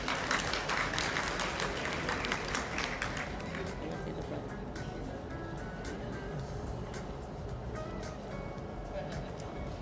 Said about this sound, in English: Let's give a big round of applause for Don Sakalayan.